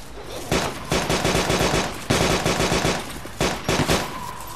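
Gunfire in DayZ, rapid automatic bursts in three or four long strings separated by short pauses, loud and close with no talking over it.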